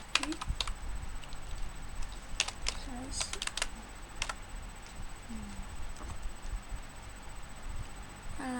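Typing ipconfig/all on a computer keyboard: scattered, light key clicks in short bursts over a steady background hum, fairly close, with no talking.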